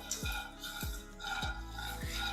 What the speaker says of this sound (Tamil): நல்லா வறுத்துக்கோங்க கருக விட்டுறாமல் வறுத்துக்கணும் மீடியம் ஃப்ளேமில் வச்சுக்கலாம்